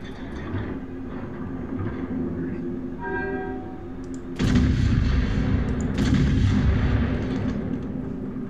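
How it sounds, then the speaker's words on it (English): Naval gunfire and a torpedo hit on an Iowa battleship in the World of Warships video game, with a steady engine rumble, a short horn-like tone, then heavy booming blasts landing close and loud. "Oh, a torpedo hit."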